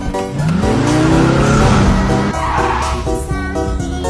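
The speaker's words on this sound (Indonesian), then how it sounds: "Mobil itu melaju ke daerah kawasan industri." A car speeds off with loud, sliding tire squeals rising and falling over a roaring engine, close and intense, with skidding noise carrying through the whole burst in an action chase scene.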